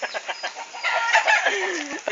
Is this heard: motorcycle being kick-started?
no